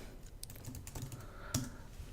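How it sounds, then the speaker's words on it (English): Someone types a name on a computer keyboard, producing a quick run of light key clicks with a slightly louder tap partway through. "I'm just going to type in"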